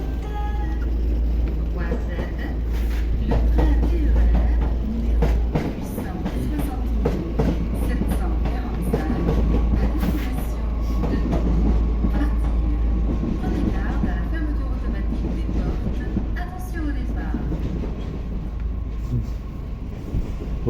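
A regional train pulling into St Pierre des Corps station, a steady low rumble with rail clatter and squeaks throughout, heard nearby on the platform with a station announcement playing over it.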